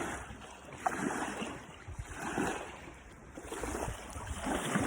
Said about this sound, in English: water, and it's not just waves